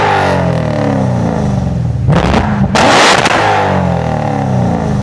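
Loud, close engine of a 700 horsepower HSV car revving hard in a car collection, with two sharp bursts of flame-spitting pops and roaring exhaust about midway through, the engine drone running throughout.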